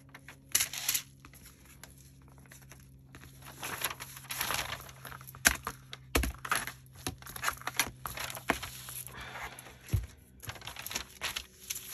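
Paper torn from junk mail envelopes for craft ephemera, heard as close, dry ripping and crinkling in irregular bursts over about twelve seconds, with scattered handling rustles and small taps in a quiet room.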